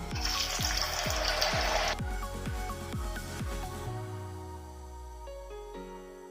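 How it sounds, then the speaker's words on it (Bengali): Chhana (paneer) balls fry in hot oil in a kadai, a bright steady sizzle that drops off after a couple of seconds while a series of low, resonant metallic knocks and a lingering ring sound close by. "এবারে আমি একে একে ভেজে নেব।"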